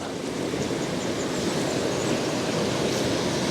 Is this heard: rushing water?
yes